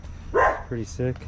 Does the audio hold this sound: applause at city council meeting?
no